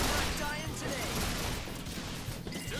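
Rapid gunfire rattles during a battle in the video game Resonance of Fate, a dense, continuous fusillade of shots mixed low in the background with some voices.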